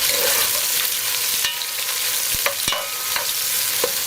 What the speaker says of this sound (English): We're going to allow the onion and the garlic to saute on medium heat